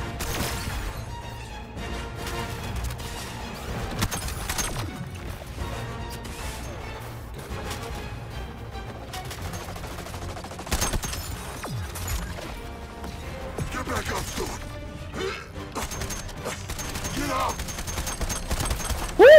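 Sustained gunfire and crashing impacts fill a hectic firefight in the video game Suicide Squad Kill the Justice League, with rattling bursts and thuds throughout and a voice talking over the action.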